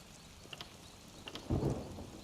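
Rain and thunder in the video game Elder Scrolls Online, a coastal town during a storm: steady rain hiss with a few brief patter crackles, then a low rolling thunder rumble swelling near the end, with no speech.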